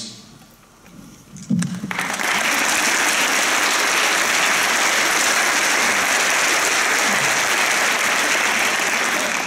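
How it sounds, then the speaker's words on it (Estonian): After a quiet moment, a school assembly crowd breaks into steady, loud applause that carries on evenly to the end. "äkki alustaks kõigepealt ühe aplausiga endale"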